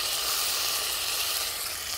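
Onions browning in hot oil for biryani give a steady, even sizzle and hiss close by, unbroken and with no voices.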